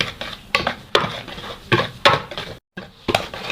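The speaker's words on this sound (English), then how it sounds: "So I'll mix together to combine the ingredients." A utensil scrapes and clinks against a bowl while mixing dry pancake ingredients with salt and sugar, producing irregular rapid clatters and stirring scrapes, close and fairly loud, with a brief pause near the end.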